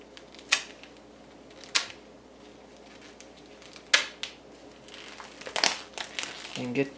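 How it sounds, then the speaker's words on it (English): A plastic bag holding raw steaks being opened, with several sharp crinkles and rustles close by over faint background talk. "So now you want to open up the bag."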